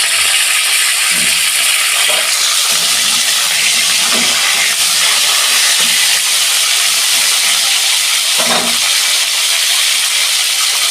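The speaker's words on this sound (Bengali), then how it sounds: "এই যে আমি উচ্ছেগুলো দিয়ে দিচ্ছি তেলে।" Whole bitter gourds hit hot oil in a kadai and sizzle loudly. A dense, steady hiss runs throughout, with a few soft knocks and clatters underneath.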